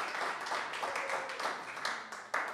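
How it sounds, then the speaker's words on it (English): An audience at a jazz event applauds, a continuous crackle of clapping at moderate volume with a few sharper claps near the end. "So one big round of applause to Sarah Cruz"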